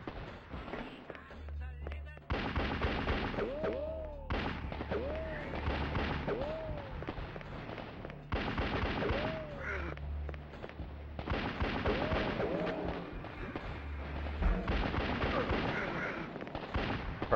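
Gunfire from a newly picked-up weapon in the N64 game Shadow Man, repeated sharp bursts and booms at irregular intervals, mixed with whooping effect sounds and a low rumbling background.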